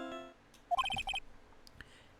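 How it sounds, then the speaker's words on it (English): A phone ringtone in an Ace Attorney game plays a bright little electronic melody of rapid beeping notes, preceded by a brief tone and followed by scattered soft blips. "What kind of ringtone is that?"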